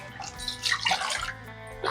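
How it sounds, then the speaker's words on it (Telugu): Six cups of water are poured into a pot for sago and vermicelli payasam, a close, bright splashing gush that fades and then briefly returns. "ఆరు కప్పులు వాటర్ పడదామండి"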